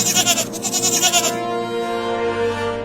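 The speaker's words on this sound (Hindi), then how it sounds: "बकरी" A cartoon goat gives a rapid, wavering bleat in quick pulses, then holds a long, steady bleating tone; loud, close and alone.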